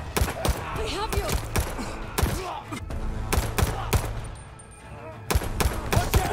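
Rapid hip-fired gunfire in the Call of Duty: Vanguard campaign, loud dense bursts of shots and thuds in quick succession with brief pauses, with voices talking underneath.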